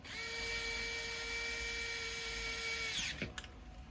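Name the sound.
power drill driving a bolt into a crawler work bed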